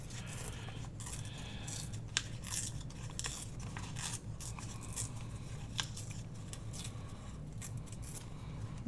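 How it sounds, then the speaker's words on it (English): Scrap paper is torn by hand into small pieces, a close series of quiet, crisp ripping and rustling sounds repeating irregularly throughout. "So I'm just going to continue to tear some pieces like this"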